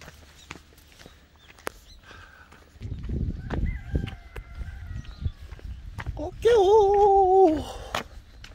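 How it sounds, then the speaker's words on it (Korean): A rooster crows once, loud and fairly close, rising and holding before trailing off, after some footsteps and rustling outdoors near Dodong Beach on Yokjido island, Korea. "닭소리도 들리고."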